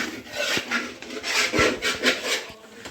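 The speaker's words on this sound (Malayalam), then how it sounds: "വരട്ടുമ്പോഴേ ഇങ്ങനെ ഇളക്കി കൊടുത്തോണ്ടിരിക്കണം" Beef and coconut pieces being stirred while roasting in a pan for a Kerala beef coconut dish, giving repeated rasping scrapes of a spoon against the pan with light sizzle, close and steady, with no talk.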